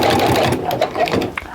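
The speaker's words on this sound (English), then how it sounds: "So I'm going to sew a few forward and a few back, get that anchored in well" A sewing machine stitches fabric for a simple Christmas stocking, running in a steady close mechanical whir with brief shifts in pace as it sews forward and back to anchor the seam.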